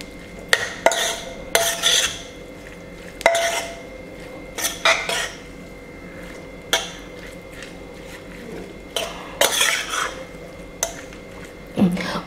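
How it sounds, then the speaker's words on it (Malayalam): A utensil scraping and clanking in a pan while beef fry is stirred, with irregular sharp metallic taps and scrapes over a quiet background, close and fairly loud. "ഇനി നമുക്ക് നന്നായിട്ട് മിക്സ് ചെയ്ത് കൊടുക്കാം."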